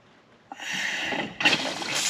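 Cold water tap in a caravan starting to run, a hiss of water and air building up after a sputter, close and steady with a louder surge near the end.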